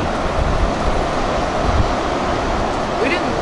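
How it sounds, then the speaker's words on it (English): Strong wind gust roars steadily around a parked RV, a loud continuous rushing with no break, heard from inside. "That is a good wind gust there."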